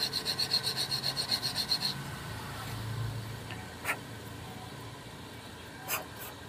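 Metal burrs being filed off car brake pads during a front brake pad replacement on a Proton Saga VVT, opening with a quick run of rhythmic rasping strokes, then quieter scraping and a couple of sharp knocks.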